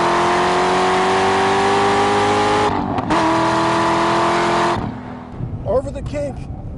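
A sports car at full throttle on a race track, its loud engine note climbing steadily in one gear before a sharp break near the end, with a driver talking over the engine.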